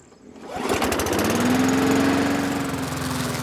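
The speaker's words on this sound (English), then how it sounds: "so it's a good day to cut the grass." A lawn mower engine starts up and runs loud and close while cutting grass, a steady buzzing drone with a rising whine that holds for a few seconds, no voices.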